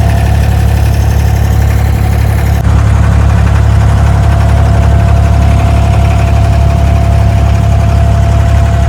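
A boat engine runs at a steady idle during a boat ride in Dubai, a loud, constant low droning hum with a slight shift in tone a few seconds in and no talking.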